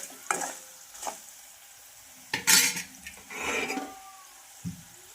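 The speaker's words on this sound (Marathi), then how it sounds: "हे सर्व मसाले यामध्ये घालायचे आहेत आणि छान असं याला मिक्स करून परत याला एक मिनटं असं फ्राय करून घ्यायचं आहे" Spices being stirred into green chillies frying in a pan, a few distinct metal spoon scrapes and clanks against the pan over a low sizzle, close and intermittent.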